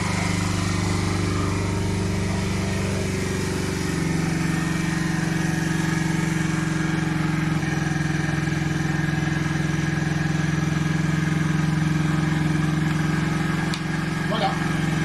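A Jinlun JL125 motorcycle engine idles steadily after a carburetor cleaning and adjustment, a continuous loud mid-pitched running hum held throughout, with someone talking over it.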